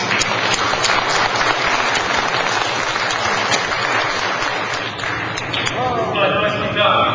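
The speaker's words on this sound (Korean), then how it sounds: "박수 부탁드립니다." Dense, steady applause from an audience at a celebratory concert fills the clip at close range, with voices faintly audible under the clapping toward the end.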